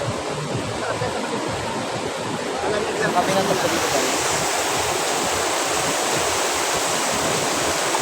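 Continuous rush of flowing river water, close and steady, with a person speaking briefly over it.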